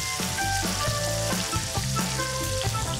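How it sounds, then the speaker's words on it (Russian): Potatoes fry in hot deep fat in a Soviet-style meat production kitchen, a loud continuous sizzle with crackling bursts and faint clinks, no voices. "Ну и параллельно будем жарить картофель."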